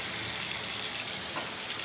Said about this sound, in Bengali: হালকা করে এই মাছগুলোকে ভাজবো গাইস।